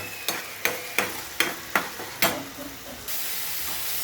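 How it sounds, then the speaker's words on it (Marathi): Ground masala sautés in a pan with a series of regular spatula scrapes and taps over a low sizzle, which swells into a steady hiss near the end. "आता भाजी बनवू बारीक केलेला मसाला टाकू परतून म्हणजे"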